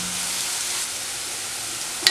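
Curry leaves sizzling as they are sautéed in a pan with a spiced mixture for chicken unnakkaya, a steady close hiss of frying with no talking.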